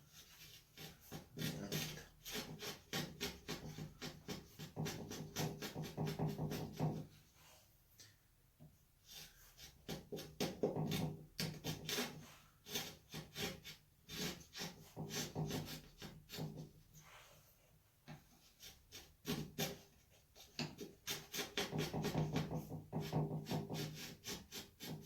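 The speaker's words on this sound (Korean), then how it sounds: "요 지금 대패로 작업하는 면은 스타트 면이에요." A hand plane shaves wood in repeated long rasping strokes, close and moderately loud, with brief quiet pauses between passes over roughly twenty-five seconds.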